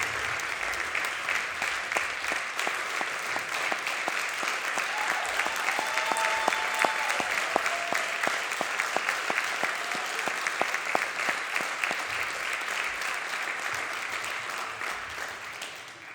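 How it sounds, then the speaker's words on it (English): A large audience at an athletic hall of fame ceremony claps in a long, sustained round of applause, dense and even, holding steady before tapering slightly at the end. "let's give a big round of applause for the Fairmont Athletic class of 2024"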